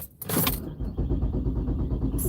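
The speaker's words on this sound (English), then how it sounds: "start the car." A year-2000 van starts in freezing weather with a short burst of cranking, then settles into a rough, pulsing idle rumble heard up close from inside.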